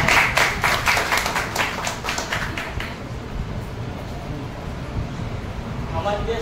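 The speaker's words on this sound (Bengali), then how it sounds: "এই প্রশান্ত ভাইয়ের জন্য একটু হাত তালি দিই" A church congregation at a Gauripur mission gathering gives a burst of hand clapping for about three seconds, dense and rhythmic, then it fades into quieter room sound.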